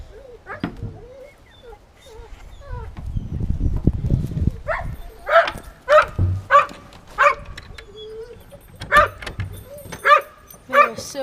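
Hunting dogs on a cold-weather quail hunt give a series of sharp barks, roughly evenly spaced in the second half, fairly close, with rustling and handling noise earlier and no clear speech.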